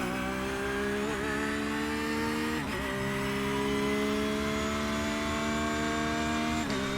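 A Porsche GT3R racing engine accelerates at Imola in iRacing, a loud steady whine that climbs in pitch, with quick dips at gear changes partway through.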